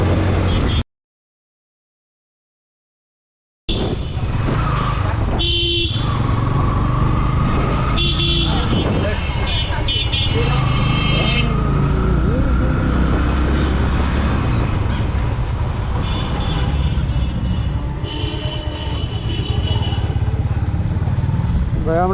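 Motorbike engine droning steadily through busy traffic on a road in Turag, Uttara, Dhaka, with horn toots and passing vehicles around it, after a brief dropout near the start.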